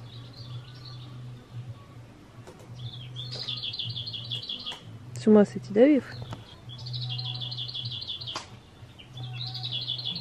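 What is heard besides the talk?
birds singing outdoors at a dacha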